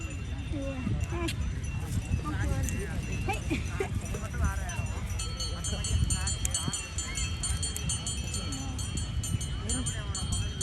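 A horse walks on Marina Beach, hooves clip-clopping in a loose rhythm amid busy crowd chatter, with people talking nearby throughout.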